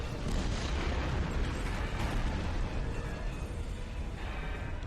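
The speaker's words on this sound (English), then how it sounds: "Detonating charges." Charges detonating inside a chamber in Star Trek Online, a sustained loud rumbling blast that roars steadily throughout without a break.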